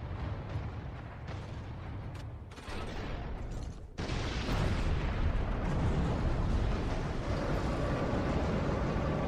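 An ork cannon fires at the gates in the Warhammer 40,000 Space Marine video game, a loud, sustained roaring blast that surges to a dense continuous rumble of explosions and debris.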